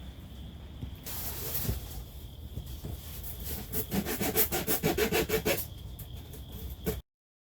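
Wooden deck parts being shaved down by hand, quiet close scraping and rasping strokes that speed into a rhythmic burst of rapid back-and-forth rubbing before ending abruptly.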